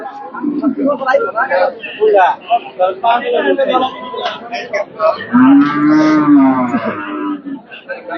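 An Australian dairy cow, a 20-kilogram milker in her second calving, gives one loud moo lasting about a second, midway through close conversation among several people.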